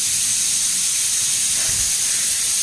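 A kitchen pressure cooker cooking dal releases a steady, loud hiss of steam that runs continuously without a break, a broad rushing spray with no voices over it.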